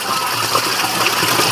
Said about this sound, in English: And so the balance of the water now is falling in behind this screen.